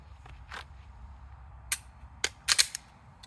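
Pistol shots during draw-and-present practice, five or six sharp cracks spread over a few seconds, the last three in quick succession, fairly distant and alone with no talk.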